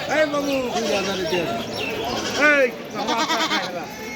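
Goats bleat repeatedly amid a busy crowd, with people talking over the animals' wavering cries at the outdoor Rustampur goat market.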